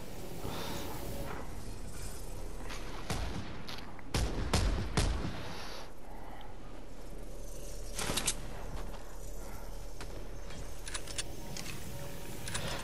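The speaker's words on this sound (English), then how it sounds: "gonna take his gun out and start shooting us?" Fortnite gameplay with bursts of gunfire, several sharp shots clustered together midway and a few scattered single cracks before and after, over a busy game background.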